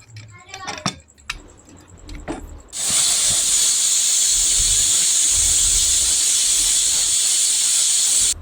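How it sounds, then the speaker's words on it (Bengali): After some kitchen clatter, a pressure cooker boiling peas for ghugni bursts into a loud, continuous hiss of escaping steam from its whistle, which holds steady and close for several seconds. "এখানে আমি 4 থেকে 5টা সিটি দিয়ে ঘুগনির মটরটা সেদ্ধ করে নেব।"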